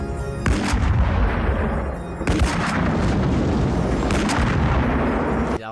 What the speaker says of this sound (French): Là, ils tirent tous.